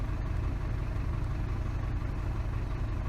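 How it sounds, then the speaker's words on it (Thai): An Isuzu car engine idles steadily and continuously at close range, a constant low rumble with no voices over it, heard while the air conditioner is being checked for a fault. "ได้แต่ฟังเสียงเครื่องยนต์ทำงาน"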